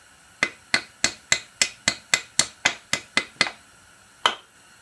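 A hammer taps a stuck swingarm bearing on a 2002 Honda CR250 motocross bike, about a dozen sharp, evenly spaced metallic knocks up close, followed by a pause and one final blow.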